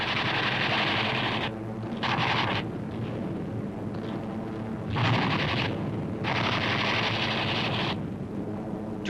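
B-25 bombers bomb and strafe personnel areas in eastern Borneo in 1945 wartime footage: continuous loud rumbling blasts and rattling gunfire in dense waves, with brief dips between heavy bursts.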